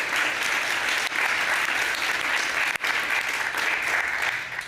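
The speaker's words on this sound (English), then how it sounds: "So big round of applause for them." An audience at an ad-filtering developer summit claps steadily in a full, dense round of applause, with one brief dip midway and no talking over it.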